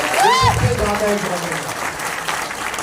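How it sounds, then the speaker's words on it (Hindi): Audience at a youth motivational event in Gorakhpur, many farmers among them, breaking into loud sustained applause as a host's voice briefly rises over the clapping at the start. "तो एक बार अपने लिए जोरदार तालियां बजा लीजिए"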